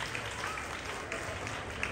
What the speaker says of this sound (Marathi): टाळ्या वाजवा त्याच्यासाठी, टाळ्या वाजवा